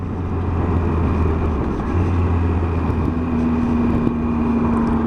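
A 2018 Triumph Tiger 800 XRT motorcycle is ridden at steady speed, giving a constant engine drone with a low hum that shifts in pitch partway through, under wind rush.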